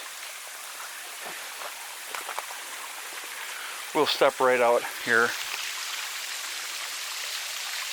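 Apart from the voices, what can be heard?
waterfall and flowing stream water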